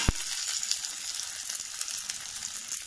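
Onions browned in a pan sizzling as turmeric, ginger paste and chopped tomato go in, a soft, even hiss with a sharp knock at the start.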